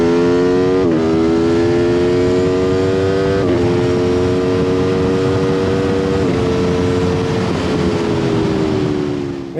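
An Aprilia Tuono V4 naked sport motorcycle ridden flat out on a race track at over 260 km/h, its engine a loud, steady high-pitched howl with brief dips at gear shifts and wind roar throughout.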